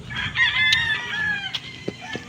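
A chicken crows loudly and close in a single drawn-out call, followed by a few short clucks.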